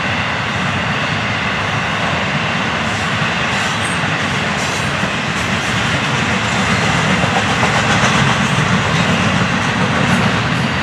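A southbound Florida East Coast train rolls past steadily on a double-track main line, a loud, continuous roar of wheels and engine at close range with no voices over it.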